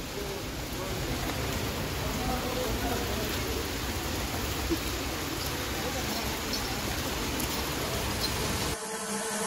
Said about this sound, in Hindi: यहाँ पर आज की वैसे ही तेज बारिश